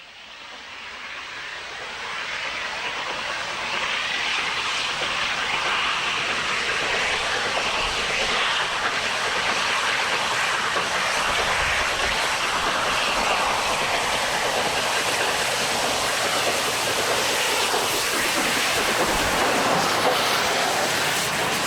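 An LMS Black Five steam locomotive climbs Hatton Bank hauling ten bogies, giving a steady, loud, continuous roar of exhaust and rolling stock with a faint rhythmic clatter of wheels, sustained with no voices.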